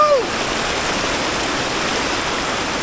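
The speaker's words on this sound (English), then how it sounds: "Waterfall!" A Jamaican waterfall pours with a loud, steady, close rush of water that holds constant throughout, with a brief voice at the very start.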